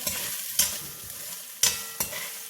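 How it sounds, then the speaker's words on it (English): Diced luncheon meat (jamonilla) browns in a little oil in a pan for Puerto Rican yellow rice. A steady close sizzle runs throughout, broken by a few sharp scraping stirs. "So we want to brown the diced jamonilla slightly."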